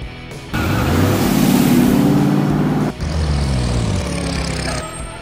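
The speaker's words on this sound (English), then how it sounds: "Subcompact car." A subcompact car engine revs loudly up close, a sustained vroom that dips for a moment and then carries on steadily to the end.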